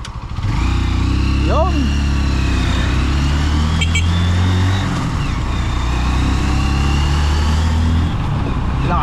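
A Honda Supremo motorcycle nicknamed Raptor, running strong again after its dragging brake was fixed, revs and pulls away. The loud, close engine climbs in pitch, with a brief spoken word over it.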